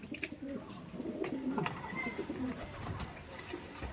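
Madras pigeons coo softly in a close, low, repeated rolling murmur, with a few sharper chirps and rustles mixed in over a steady background.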